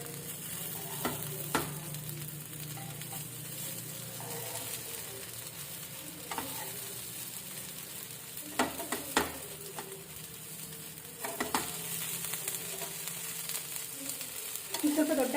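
Okra for bhendi fry sizzles steadily in a pan, with a continuous hiss and occasional scraping stirs and clinks from a spatula, close and fairly even throughout.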